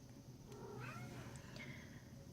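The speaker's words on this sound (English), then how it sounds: "that's my cat" A pet cat meows faintly indoors, a couple of short rising cries against a low steady room hum, with no talking.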